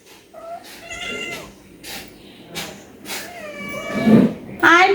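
A pet cat named Lucy meows repeatedly at close range while being called to a meal of khichuri, with a voice talking around the cries.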